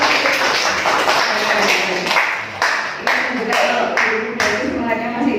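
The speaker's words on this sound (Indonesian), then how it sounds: "Oke, tepuk tangan untuk semuanya dulu." An audience at a positive school culture session claps hands together, a loud, fairly close burst of clapping with distinct sharp taps, and voices mixed in underneath.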